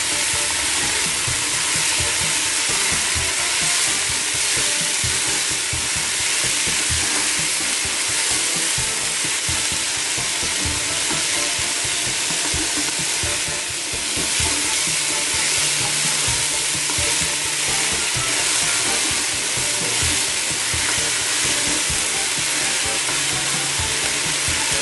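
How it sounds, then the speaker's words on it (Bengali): Bitter gourd and potato fry in a pan with a dense, continuous sizzle and hiss, stirred now and then, loud and close with no talking. "এবারে করলাগুলো দিয়ে দিচ্ছি,"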